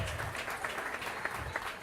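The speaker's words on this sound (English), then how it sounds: "A big round of applause for Greg Parodies, Overseas Parodies" Steady audience applause at an airport ceremony, a dense wash of many hands clapping throughout with a few sharper claps standing out, moderately loud and continuous.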